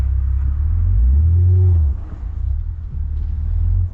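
A BMW X3M Competition engine revs up for a launch, making a loud, deep rumble that swells to a sustained peak and then eases back to a strong idle, with no talking.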